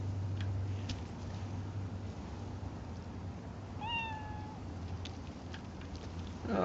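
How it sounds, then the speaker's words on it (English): A stray cat in the Cyberpunk 2077 video game gives a single clear meow partway through, heard over a steady low rumble of game ambience and faint background noise. "Oh, I can't pet the kitty though"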